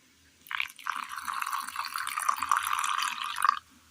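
A little water is poured onto roasted ground masala in a mixer jar, making a soft, continuous trickling pour of about three seconds that starts and stops cleanly, close and fairly quiet.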